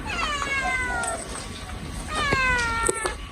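Cat meowing from somewhere above, a few clear drawn-out meows in two bursts with a brief scuff or bump between, fairly close and loud with no talk over them.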